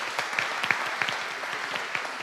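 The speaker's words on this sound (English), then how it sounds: "One more round of applause to our panelists." Audience applauding panelists at an event, a steady wash of many clapping hands at moderate volume, heard alone for a couple of seconds.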